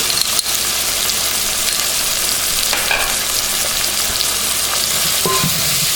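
Tomato paste fries in a pot for an African dried beef and peanut butter stew, giving a steady, close sizzle that fills all six seconds, with a few scraping stir sounds near the end.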